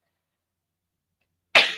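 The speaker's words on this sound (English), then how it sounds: "I think I'm gonna sneeze though" One sharp, close sneeze bursts out at the very end after a long stretch of silence, loud and sudden with a quick fading tail.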